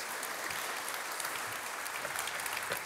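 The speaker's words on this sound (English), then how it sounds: "This is your applause." An audience at a start-up pitch night in Berlin applauds the pitch members with steady, dense clapping, a continuous even wash of many hands that holds at a constant level throughout.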